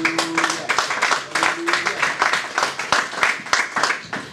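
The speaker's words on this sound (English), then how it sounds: "If you agree, clap for God." A church congregation claps during a sermon on female ministers, moderate uneven clapping with rhythmic bursts, fairly close and steady throughout.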